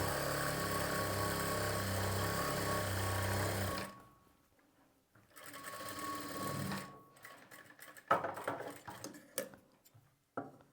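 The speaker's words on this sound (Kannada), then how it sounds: "ಈಗ ಲೈನಿಂಗ್ ಮೇಲೆ ಎಡ್ಜಲ್ಲಿ ಒಂದು ಹೊಲಿಗೆ ಹಾಕ್ಕೊಳ್ಳಿ" A sewing machine runs a steady, loud stitch along the edge of a garment lining for about four seconds, then stops; softer handling noises, fabric rustles and clicks follow.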